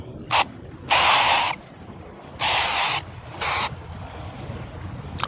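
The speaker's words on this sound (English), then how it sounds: "Premium moisturizing sunscreen spray." Premium moisturizing banana coconut sunscreen spray hisses out of a can in four separate bursts, one short and three longer, close and loud against quiet background.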